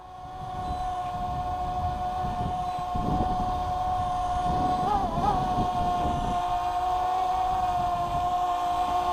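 Ruko Bwine F7GB2 drone descending slowly in wind, its rotors giving a steady high whine that wavers in pitch as it fights gusts, under rumbling wind buffeting.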